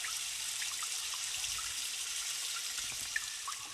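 Steady hiss of water running from a tap in the Myst video game, a continuous even flow with faint drips and no voices.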